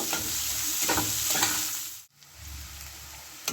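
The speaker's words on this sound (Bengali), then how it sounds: "পেঁয়াজটাকে লাল লাল করে ভেজে নেব।" Thinly sliced onions sizzle and frying in oil in a pan for a spicy small-fish curry, a steady close hiss with soft stirring scrapes and a brief break midway.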